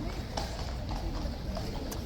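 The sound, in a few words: horses' hooves clip-clopping into the stables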